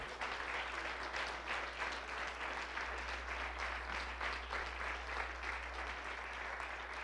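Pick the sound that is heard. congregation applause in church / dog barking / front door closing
congregation applause in church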